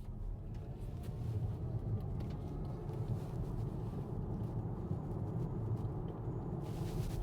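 A 2023 BMW iX1 M Sport electric car pulling away, heard from inside the cabin as a steady low rumble of road and tyre noise with no engine note, moderately loud and constant, with no talking.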